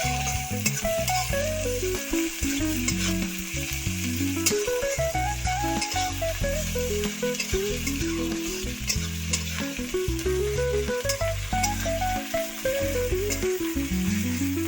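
Chopped onions fry with ginger-garlic paste in a pan for Bengali prawn malaikari, a steady loud sizzle broken by repeated scraping stirs, with a melodic tune playing underneath throughout.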